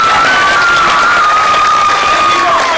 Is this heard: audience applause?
yes